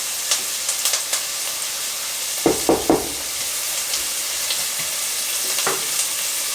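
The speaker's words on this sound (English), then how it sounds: "Noodles are cooking." Pot of noodles cooking for a turkey casserole, a soft steady sizzle and bubbling hiss with a few sharp knocks and clinks of stirring, close and quiet with no talk.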